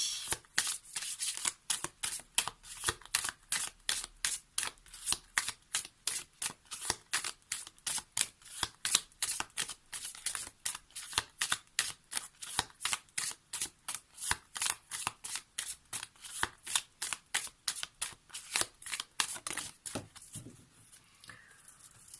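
A deck of oracle cards from a tree-wisdom oracle is shuffled by hand, a long run of quick, evenly spaced riffling flicks repeating close up for about twenty seconds before trailing off, with no talking.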